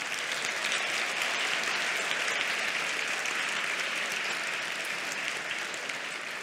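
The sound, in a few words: audience applause for a student champion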